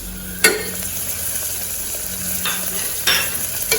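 Spice powders, chilli powder, garam masala and turmeric, frying briefly in a pan for corn capsicum rice, a steady low sizzle with a few sharp scrapes of stirring.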